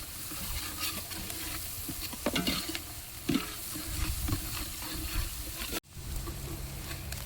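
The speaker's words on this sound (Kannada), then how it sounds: "ಹೆಚ್ಚಿದ ಈರುಳ್ಳಿ ತಿರ್ಗಾಡ್ಸ್ತಮ್ಮ" Chopped onions sizzle loudly in a pan while being stirred, with scraping strokes and bursts of crackle around the midpoint and a brief cut near the end; no speech.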